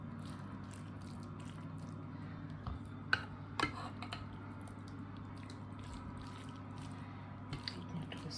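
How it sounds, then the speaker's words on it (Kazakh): Pieces of salted, cured meat for beshbarmak go into a small serving dish along with broth: quiet, wet drips and soft squishes with a few clicks, over a steady low room hum. "Сорпасымен бірге салып жіберейік."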